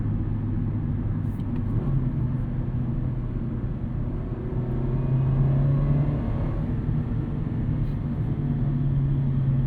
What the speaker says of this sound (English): I think it's a good sounding 4-cylinder.